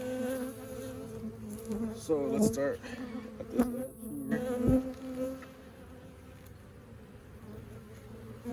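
Honey bees buzzing steadily around an opened hive of splits in a bee yard, a dense close swarm hum with a person speaking briefly over it.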